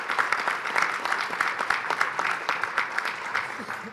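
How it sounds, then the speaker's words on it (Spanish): Sustained applause from a conference audience for the panelists of an energy investment forum in Guatemala, a steady wash of many hands clapping with no talk over it. "Un fuerte aplauso, por favor, a todos nuestros panelistas"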